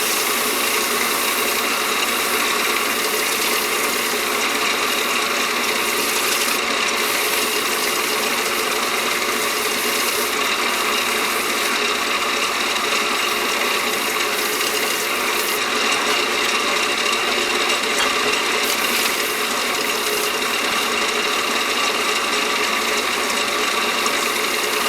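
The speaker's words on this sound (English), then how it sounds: "I'm going to turn the lathe on now, and we'll buff this to a pre-finish for Hampshire sheen." Wood lathe turns a walnut live-edge platter while a finish is buffed to a sheen, producing a continuous mechanical hum and rattling drone that stays steady and fairly loud throughout with no voices.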